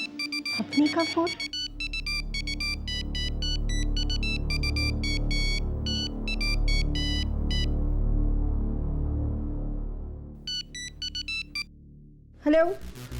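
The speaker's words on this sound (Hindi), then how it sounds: "अपनी का फोन?" A mobile phone ringtone plays as repeated bursts of bright electronic tones over a low, droning background, pausing before the ringing starts again.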